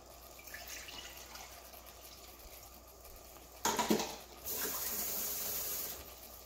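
Leftover bean cooking liquid poured into a measuring cup, a faint brief splash and gurgle followed by a steady soft trickle of liquid, quiet and near with no talk.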